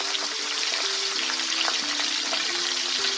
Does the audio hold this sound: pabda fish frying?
yes